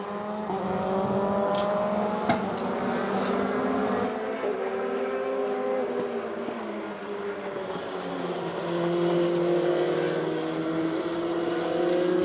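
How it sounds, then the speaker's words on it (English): Euroformula open-wheel race cars circuit Mugello during 2020 qualifying, engines droning loudly and continuously with pitch rising and falling as cars lap, several machines overlapping at close to mid distance. "They're not the most powerful race cars in the world, but despite that, they are incredibly quick."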